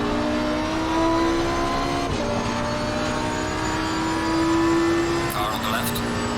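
Race car engines in the sim racing game Assetto Corsa Competizione at Imola drone steadily, with sustained high engine tones shifting as cars pass and brief pitch changes on gear shifts, loud and continuous throughout.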